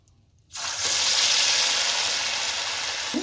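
Malpua batter hits hot oil and breaks into a sudden, loud, steady sizzle that holds at close range, with a faint tap of a utensil near the end.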